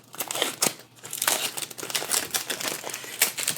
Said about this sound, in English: let's go ahead now and start removing some of the plastic wrap here.